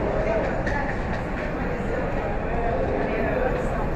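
São Paulo metro train running on the line toward Jabaquara station, a steady loud rumble of the carriages filling the whole stretch, with people talking over the noise.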